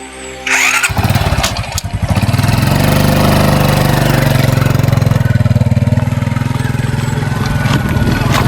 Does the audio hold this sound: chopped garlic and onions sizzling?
no